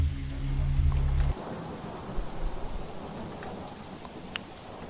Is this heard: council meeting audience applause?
no